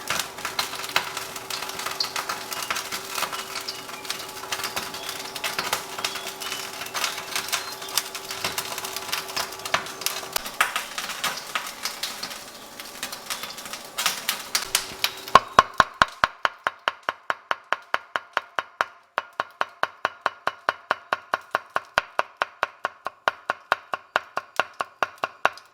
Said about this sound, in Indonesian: Sekarang kita akan cincang.